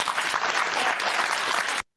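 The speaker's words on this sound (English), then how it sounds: "an applause from the audience of Undecided" Studio audience of a Question Time debate show applauding, a steady dense clatter of many hands filling the whole moment before cutting off abruptly.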